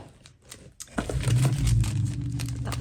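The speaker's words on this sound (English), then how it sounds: "My neighbor's car, if you just heard it. He has a really loud car." A loud neighbor's car passes close by, its low engine rumble swelling suddenly and holding steady, with faint clinks and rustling nearby beforehand.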